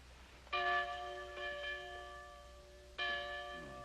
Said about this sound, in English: Courthouse bell.